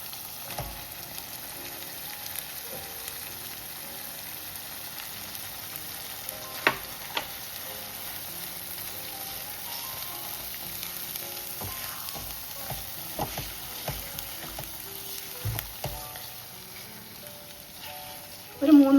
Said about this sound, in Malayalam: നമ്മൾ പ്രോൺസ് ചേർത്ത് കൊടുക്കാൻ പോവാണ് ഈ മസാലയിലോട്ട് തന്നെ.